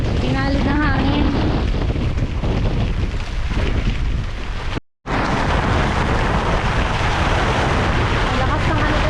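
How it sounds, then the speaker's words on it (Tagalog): Strong typhoon wind roars and buffets the microphone continuously, with a brief dropout midway and voices faintly shouting beneath the gusts. "Ang lakas ng hangin guys."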